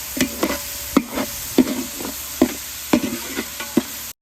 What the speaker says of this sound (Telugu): ఇలా కలుపుతూ ఉండాలి, అడుగు మాడిపోకుండా.